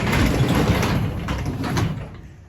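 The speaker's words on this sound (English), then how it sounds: "Let's open the shop door so we don't smoke myself out." A workshop door opened, producing a long loud rumbling slide with a rattling metallic roll, close by and steadily fading toward the end, with no speech.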